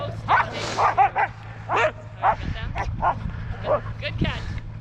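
Sled dogs at a lodge in Eagle Lake, Maine, barking and yipping in repeated excited bursts, close and loud, with people talking over a steady low rumble throughout.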